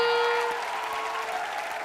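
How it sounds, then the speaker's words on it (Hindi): Studio audience applause on a comedy show, a brief burst of clapping that begins under a fading musical tone and carries on steadily at moderate loudness. "एक बार जोरदार तालियां"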